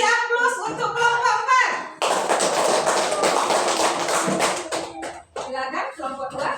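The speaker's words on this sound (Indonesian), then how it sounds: "Kita kasih aplaus untuk kelompok" Children in a classroom clap for a student group, a dense burst of applause lasting about three seconds between a teacher's spoken lines.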